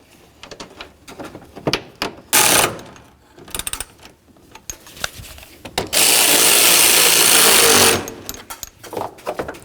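Power tool tightening bolts on a 2007-or-later Toyota Tundra during a water pump replacement, with short bursts around two seconds in and a sustained loud run of about two seconds near the end, mixed with clanks of handling.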